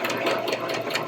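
A sewing machine re-stitching the seam of a shirt runs in a short, steady burst of rapid mechanical needle clatter, close and alone.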